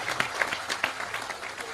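Audience applause at an Indonesian gathering with a speaker, a steady wash of clapping with a few sharper claps standing out, moderately loud and sustained through the short stretch.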